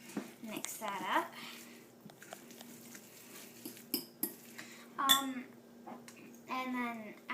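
A spoon stirs tuna salad in a bowl, giving soft clinks and wet squishing scrapes in short bursts between stretches of a woman's speech.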